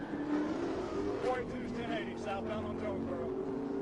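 A Chrysler 300 SRT8 engine drones and revs during a high-speed police pursuit, a steady mid-level roar mixed with voices talking over it.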